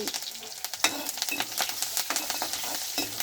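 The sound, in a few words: onions, green chillies and curry leaves frying in oil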